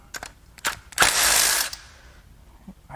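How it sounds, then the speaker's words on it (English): Small cylinder head bolts being loosened with a ratchet during teardown of a Mercedes OM642 3.0L turbodiesel V6: a few sharp ratchet clicks, then a longer grinding burst of close mechanical noise that fades into quiet handling sounds. "Get a couple of the small head bolts out."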